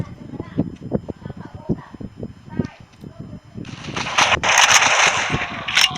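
Gunfire in the Crisis Action shooter game: a run of sharp, evenly spaced shots, then a louder burst of bright, crackling fire near the end. Talk is also present.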